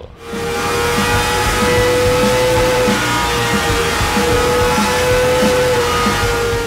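Kawasaki Ninja ZX-4RR motorcycle engine accelerating, a steady loud close-up engine drone with a sustained tone that holds through the whole stretch, no voices over it.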